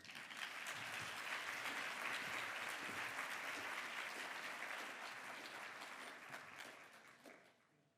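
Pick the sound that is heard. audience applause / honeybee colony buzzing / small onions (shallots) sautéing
audience applause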